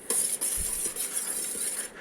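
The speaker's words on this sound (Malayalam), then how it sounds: "നന്നായിട്ട് ബീറ്റ് ചെയ്തെടുക്കാം കേട്ടോ" A sweet sugar mixture is beaten in a bowl, giving a continuous brisk scraping and whisking with a high metallic hiss and rhythmic soft knocks against the bowl, close and steady with no talking.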